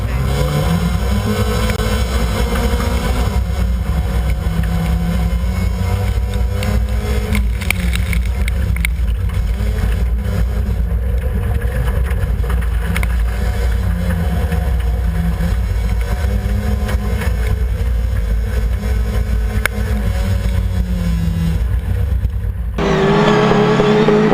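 Autograss race cars roar around a dirt track, a loud sustained engine drone with rising and falling pitch as cars pass and rev, ending in a sudden shift to a nearer, deeper rumble.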